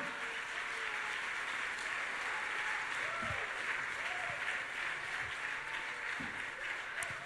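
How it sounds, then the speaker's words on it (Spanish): A Spanish-speaking church congregation gives strong applause during a sermon, a broad continuous wash of clapping that holds steady, with faint voices and a few thuds beneath. "Dale un aplauso fuerte al Señor en esta hora."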